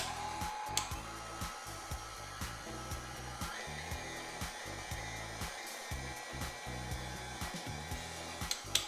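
Electric mixer blending ingredients in a bowl, a steady close whirring motor that runs without pause, with small knocks and bumps along the way.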